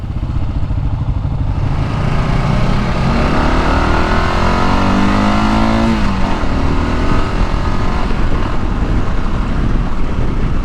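A Kawasaki KLR 650 motorcycle's engine rumbles loudly and continuously up close, its pitch rising and falling as it revs, with no talking.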